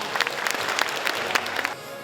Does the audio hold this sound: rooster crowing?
no